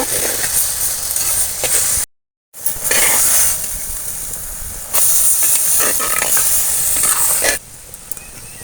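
Kanavazhai greens steam while cooking in a pot, giving off a loud, continuous hiss that surges and eases, broken by one short gap of silence.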